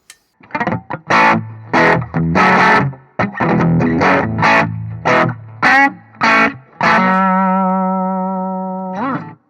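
Overdriven electric guitar through a Thermion Zero Marshall-style preamp pedal, playing distorted chords and riffs with a thick amp-like crunch, ending on a long sustained ringing chord that slowly fades.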